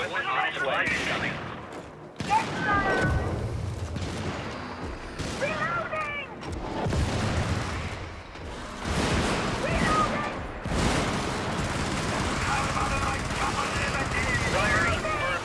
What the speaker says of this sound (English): Another strafing run behind us